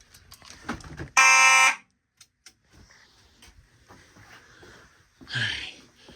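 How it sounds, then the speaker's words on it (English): A conventional smoke detector gives one short, loud, piercing electronic alarm burst during a magnet test, surrounded by faint shuffling and handling noises and a brief later rustle. "Now we're gonna magnet test the conventional smoke detector"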